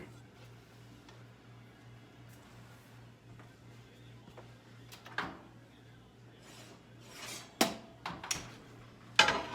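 Metal pans clank and scrape as they are handled, a few sharp knocks growing louder toward the end against a quiet room hum.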